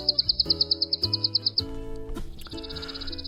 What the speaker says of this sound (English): It's Spizella passerina, today's featured feathered friend,